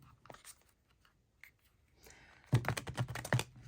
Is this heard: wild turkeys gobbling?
no